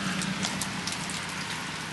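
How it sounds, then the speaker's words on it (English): Heavy rain pours steadily on a February day as snow melts and a drain pipe drips, a dense, unbroken hiss of water close by with no voices. "And it's just pouring rain."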